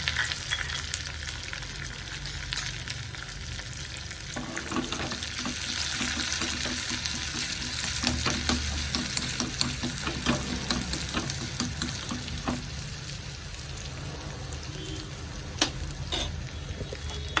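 Steady oil sizzle of sliced shallots and curry leaves frying for pacha theeyal curry, with occasional stirring clatter, close and continuous throughout.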